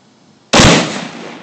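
A Remington rifle fires a single loud, close shot after a quiet pause, with a sharp crack followed by a long decaying echo.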